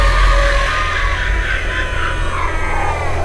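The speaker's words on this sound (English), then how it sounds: "that's the same scream sound effect from earlier" Stock scream sound effect from a low-budget film, a single loud wavering shriek sustained for a few seconds over a dense rumbling background.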